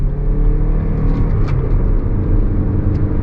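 A 2023 Lexus RX 350h hybrid SUV accelerates on throttle through a turn, giving a steady, loud low rumble and whir of engine and road noise heard from inside the cabin.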